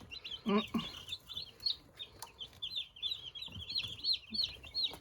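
A newly arrived Buff Orpington baby chick cries with repeated high, shrill peeps in quick uneven bursts, close and fairly loud, with a brief lower cluck near the start.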